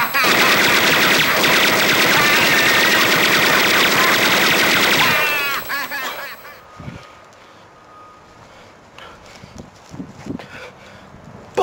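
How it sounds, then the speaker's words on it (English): Rapid machine-gun fire from the film Home Alone rattles loud and dense for about five seconds, then cuts off, leaving a quiet room with scattered faint thumps and rustles. "This McAllister kid's firing a machine gun at me!"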